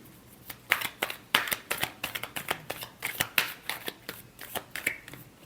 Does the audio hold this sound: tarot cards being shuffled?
yes